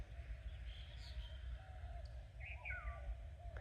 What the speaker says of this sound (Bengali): এই জায়গায় শুধু পাখির ডাকের আওয়াজ শোনা যাচ্ছে।